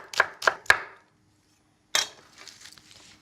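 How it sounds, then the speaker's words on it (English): Three sharp knife strokes slicing French shallots on a cutting board in a kitchen, evenly spaced and close, followed by a pause and then a softer burst of kitchen clatter. "Now for some French shallots or purple shallots, we're just going to slice them."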